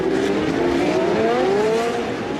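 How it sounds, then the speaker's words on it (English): Pack of 1966–1975 Formula One race cars with wings at the Monaco Historic Grand Prix, high engine whine rising and sweeping past continuously, loud and close. "The pack of 22 cars gets through the principal difficulties of the circuit without any problems"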